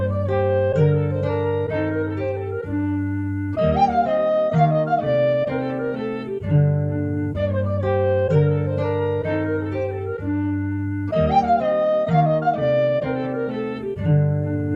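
A recorder sample from a sound library, built by Kyle Stemberger into a looping flute-like melody over a steady low bass and chords, with bright sustained phrases repeating in clear sections.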